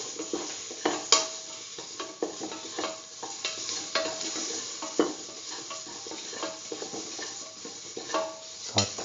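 Fennel seeds and salt sizzle steadily in a hot pan while a spoon stirs and scrapes them, with irregular metallic clinks against the pan throughout.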